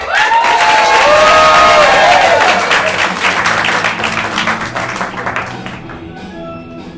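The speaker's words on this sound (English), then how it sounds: "Let's give Bean a big round of applause for" Studio audience at a comedy show bursts into loud clapping and cheering that peaks early, then gradually thins and fades out over several seconds.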